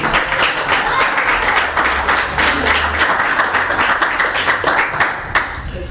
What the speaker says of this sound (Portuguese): Pode bater as palmas para Jesus.